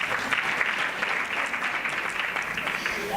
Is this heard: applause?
yes